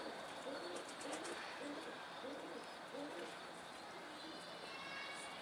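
Pigeons coo repeatedly in a loft, soft rolling calls in a loose rhythm under steady background noise, with people talking nearby.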